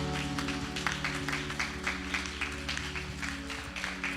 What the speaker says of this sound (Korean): 다시 한번 우리 주님께 감사의 박수로 영광합니다.